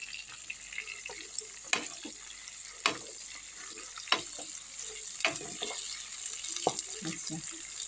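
Onions sizzling in a hot pan in a home kitchen: a steady, soft frying hiss punctuated by scattered clicks and scrapes of stirring.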